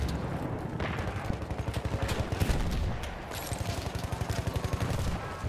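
Sniper rifle fire in Battlefield 1 gameplay: dense, repeated booming shots and rapid gunfire bursts roll through the whole stretch, loud and continuous with a pulsing rhythm.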